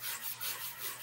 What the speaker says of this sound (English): with a sanding block, just start working away at the paper